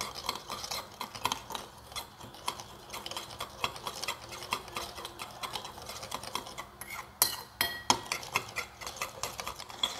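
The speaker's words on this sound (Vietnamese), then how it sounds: "Sau đó thì các bạn trộn đều lại để cho cái phần đường được tan hết." A spoon stirs water and sugar inside a mortar, producing a close, continuous series of light scraping and clinking taps in an uneven rhythm with no voices over it.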